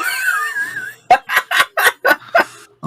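Chicken sound effect: a rising, warbling squawk followed by a quick run of six sharp, evenly spaced clucks, loud and close, with no talking.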